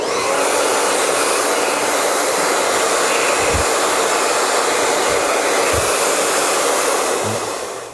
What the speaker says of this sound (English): I'm gonna use the blow dryer in a warm setting